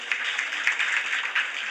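An audience claps for the performer Mahesh during a Gujarati literary storytelling programme, with steady, dense applause and brief louder bursts that carry on throughout without a break.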